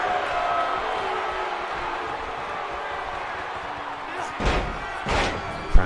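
Two heavy thuds of a wrestler slammed onto the mat after a pump handle slam at an N.E.W. Brawl event, landing in quick succession over a steady murmuring crowd.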